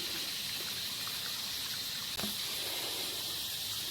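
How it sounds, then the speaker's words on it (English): A small outdoor creek trickles steadily, a faint even wash of flowing water with a brief bump partway through, alone with no talk. "Just down at the little creek here."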